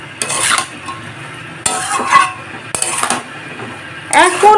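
Bottle gourd being sautéed in a pan, loud separate bursts of a spatula scraping and clanking against the metal, about four strokes with quiet gaps between and a light sizzle beneath.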